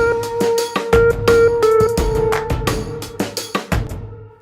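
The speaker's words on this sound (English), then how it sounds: "this synth part at the moment sounds like this" An Omnisphere synth part drenched in Valhalla Shimmer reverb plays a sustained tonal line over a mix with punchy drum hits, the shimmer tail ringing out loud and fairly close.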